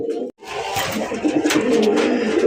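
Raj Golla pigeons cooing close by, a steady run of soft, throaty coos that carries on almost without pause after a brief gap near the start.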